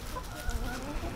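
A backyard chicken among fluffy feather-footed hens gives a brief, soft cluck, faint and close, over low ambient noise.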